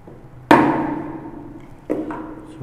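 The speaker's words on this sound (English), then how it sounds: "So I'm gonna be chiseling material from the front." A chisel is struck into a wooden wedge for a stool, giving one sharp, ringing knock followed by a lighter second tap, close and clear in a quiet room.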